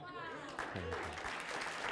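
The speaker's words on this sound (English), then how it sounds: "Huge round of applause for Abby." Applause rising from a crowd at a magic show, with a voice talking over the clapping throughout.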